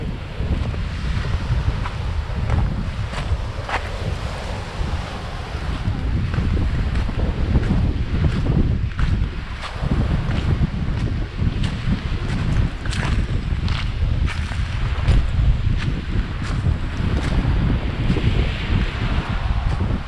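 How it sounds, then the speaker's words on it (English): A northerly wind blows hard by the sea on a Whitsundays beach, buffeting the microphone in a constant roar, with choppy water and surf underneath throughout. "Once again we've got northerly winds"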